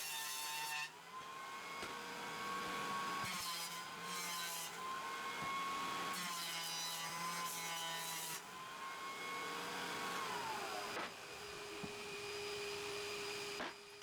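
A power saw rips through wood for a handmade stool, a steady whining cut broken by several brief pauses, with a continuous machine hum underneath and no talk.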